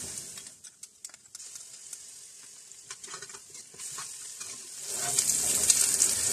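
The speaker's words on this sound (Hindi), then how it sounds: "जीरे को इसमें जरा सा फ्राई करेंगे और उसके बाद इसमें लहसुन अदरक की पेस्ट डाल देंगे।" Cumin, then ginger garlic paste, frying with onions for a beef mince noodle kebab, heard close: scattered crackles at first, then a steadier, louder hiss building toward the end.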